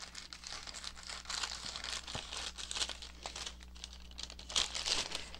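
Thin plastic cereal box liner bag crinkles and crumples steadily up close while being cut open and handled, with brief sharper rustles and no speech.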